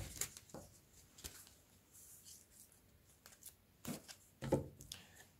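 Tarot cards being shuffled and drawn, quiet papery riffles and soft slaps in a few separate bursts, close and faint with no talking.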